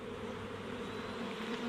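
Bees buzz steadily on a hive frame with hatching brood, a close, dense, continuous drone with no pauses.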